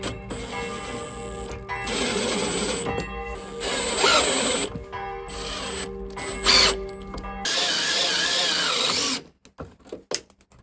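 A power driver tightens stainless steel screws while a Thule slide-out electric step is mounted. It whirs up close in short, repeated bursts with brief pauses and ratcheting, then stops and leaves a few faint clicks.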